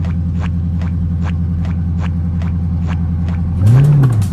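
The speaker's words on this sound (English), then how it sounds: "I don't know if you know we racing, but we racing." A Hellcat Trackhawk street racing, its engine idling with a steady rumble and rhythmic lope before revving up sharply near the end, loud and close with no talking.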